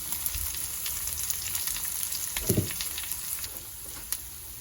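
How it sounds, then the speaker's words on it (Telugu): Onions fry in a pan for a tomato cashew curry, giving a steady close sizzle throughout, broken by a brief louder scrape or stir of the pan partway through. "ఆనియన్స్ ఫ్రై అయ్యేదాకా ఫ్రై చేసుకోవాలి."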